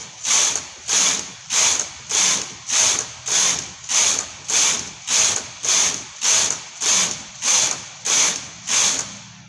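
Knitting machine carriage pushed back and forth across the needle bed while knitting rows of baby booties, about fourteen even rasping passes roughly every 0.7 seconds, close and loud, with no talking.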